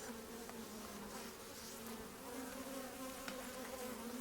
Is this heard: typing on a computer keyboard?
no